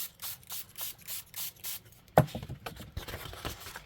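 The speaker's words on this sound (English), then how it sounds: "I might spray some water this time just to spread it around." Several short hissing bursts from a spray bottle misting water onto paper on a gel plate in a quick rhythm, followed by a sharp knock and some rubbing and scraping sounds.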